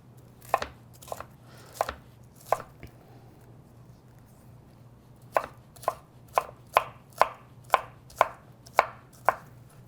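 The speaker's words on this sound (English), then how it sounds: "just hold the pepper like this and kind of shave down the sides" Knife chopping a pepper on a cutting board: a few sharp cuts, a pause, then a steady run of about ten crisp, evenly spaced chops, close and clear with no talk.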